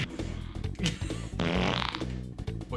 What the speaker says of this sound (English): Fart might have been extreme loud.